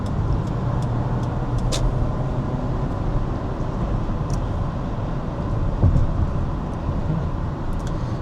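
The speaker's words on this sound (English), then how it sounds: "I'm just passing by a learner bus." A learner bus passing on a countryside road, a continuous low rumbling engine and road roar heard from inside a moving vehicle, steady and fairly loud with a slight swell partway through.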